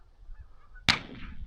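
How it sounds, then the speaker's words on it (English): A goose gives one sharp, loud honk close by, a sudden single call with a quick decay, breaking a quiet outdoor stretch during a goose hunt. "That goose is hiding behind the tire."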